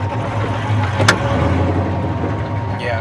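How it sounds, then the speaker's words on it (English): A car drives along with a steady engine and road rumble, while the worn suspension gives off a sharp clunk midway and small rattles and creaks. A faint voice is heard. "my ghetto suspension be making all types of noises"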